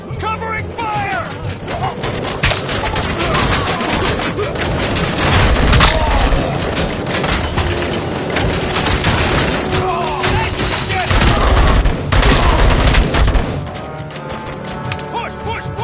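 Heavy covering gunfire in a video game, a loud continuous fusillade with booming impacts and mechanical clatter that swells midway, while voices shout over the din.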